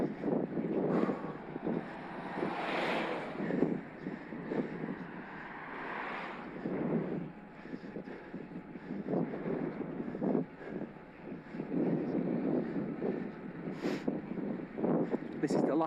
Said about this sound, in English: This is the last part of the climb. Straight into a headwind as usual.